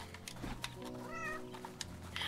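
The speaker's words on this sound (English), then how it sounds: "yeah, that's the cat. It'll meow every once in a while." A cat meows in the video game Portal Knights, with a short rising and falling call at mid-clip over steady game music and ambience, moderately loud.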